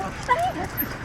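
A dog gives a brief, thin yip or whimpering bark nearby, with a voice audible around it.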